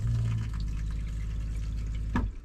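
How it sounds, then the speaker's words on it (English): Water flowing from a tap supplied by a domestic water pump in an off-grid home, a steady rushing stream with a low pump hum beneath, ending in a brief clunk as it shuts off. "My water pump still works, so I'll be able to have water, which is important."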